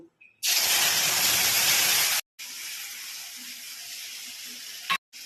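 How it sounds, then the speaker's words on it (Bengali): A sudden loud sizzle and hiss as spices hit hot oil in a wok, holding for about two seconds, then continuing more softly as the oil keeps spitting. "কড়াইয়ে অল্প করে তেল দিয়েছি, এবার মশলাটা দিয়ে দেব।"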